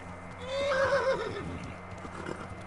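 A horse in the medieval game Kingdom Come Deliverance gives one loud, close whinny that rises and trails off, with soft hoof clops beneath.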